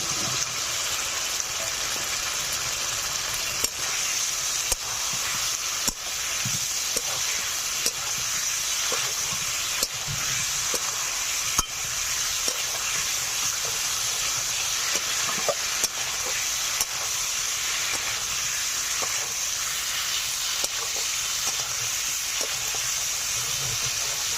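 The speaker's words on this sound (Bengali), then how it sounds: "2 মিনিট মতো মশলাটা একটু নেড়ে চেড়ে নেব। ভেজে রাখা আলুগুলো দিয়ে দিচ্ছি।" Spice paste and fried potatoes sizzle steadily in a pan for a Bengali hilsa fish recipe, with a continuous frying hiss broken by occasional soft scrapes and taps of stirring.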